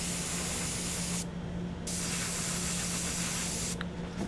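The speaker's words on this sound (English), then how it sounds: "Put chalky milk right through the airbrush." A steady airbrush hiss sprays chalky milk paint onto a Warhammer 40k Genestealer Cult Acolyte Iconward model. The spray runs continuously and close, with two brief breaks in the airflow.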